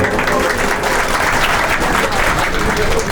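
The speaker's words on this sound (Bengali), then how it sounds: "আমি চাচ্ছি আপনারা সবাই ওনাদের সকলের জন্য একটা বড় করে হাততালি দিবেন" Audience applause aboard a traders' association river boat picnic, dense sustained clapping from a crowd, loud and close for the whole stretch.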